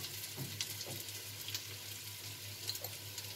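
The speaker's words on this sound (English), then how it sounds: "Meanwhile our cauliflowers are getting fried" Cauliflower frying in oil: a soft, steady sizzle close by with faint crackles and a few light stirring clicks, quiet and continuous, with no talking.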